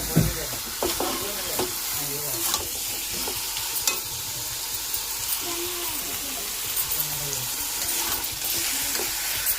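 Chicken kosha being stirred in a wok, a steady close sizzle of frying with repeated scraping stirs throughout, with no talk.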